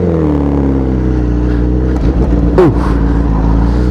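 A 2016 Honda CBR1000RR Fireblade with a full tank pulls away under throttle, its loud close engine note climbing through a rising rev sweep, with a brief exclaimed voice partway through.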